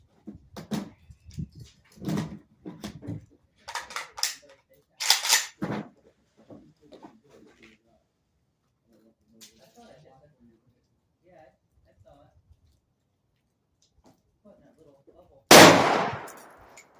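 A single loud, close AK rifle shot cracks out sharply near the end, following a stretch of scattered talk and quiet handling noises.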